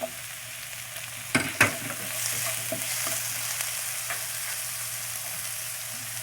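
Capsicum sizzles in a hot pan with tomato and coriander for chicken chilli manchurian, a steady close frying hiss broken by a couple of spatula clanks early on.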